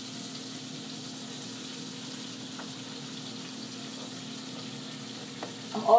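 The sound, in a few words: spinach frying in olive oil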